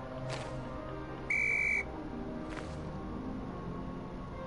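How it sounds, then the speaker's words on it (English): A short, bright, steady electronic whistle tone rings once in the video game The Tomorrow Children, set amid faint game ambience and brief soft whooshes. "I heard the whistle."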